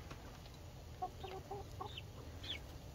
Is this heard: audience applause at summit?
no